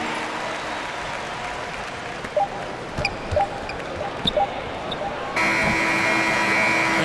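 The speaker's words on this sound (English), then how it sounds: "the buzzer sounds to end the first" NBA 2K basketball game, Thunder against Lakers: crowd noise and scattered ball bounces run under the action, then a loud, steady electronic buzzer blares to end the first quarter and holds to the end.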